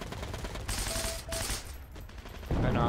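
Gunfire in the Heroes & Generals video game, bursts of rapid shots over a dense background of battle noise, with a louder crackling burst near the end.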